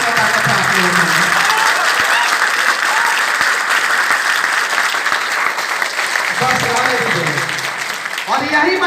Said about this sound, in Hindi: बजाइए लोग, देखते हैं कितना ताकत है आप लोगों में।